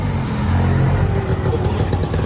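A motorcycle engine runs with a continuous low, rough rumble and steady clatter, close and loud throughout, with no voices.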